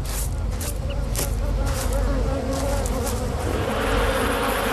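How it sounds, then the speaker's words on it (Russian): Dense, continuous buzzing of a honeybee swarm defending its hive against an attacking honey badger, loud and close throughout with a steady drone and no pauses. "Пчелы жалят его снова и снова."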